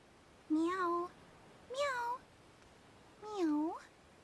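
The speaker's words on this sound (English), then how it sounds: "Did I not just hear the sound of a cat meowing" Cat meows in the video game Star Ocean The Divine Force, three clear rising-and-falling calls spaced about a second apart over a quiet background.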